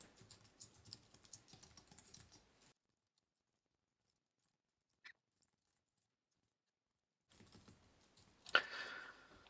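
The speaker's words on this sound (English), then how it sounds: "I'm gonna type this down without a comment and be back in a minute" Someone types code on a computer keyboard in quick, light clattering runs of keystrokes, with a long silent gap between two bursts and one sharper clack near the end.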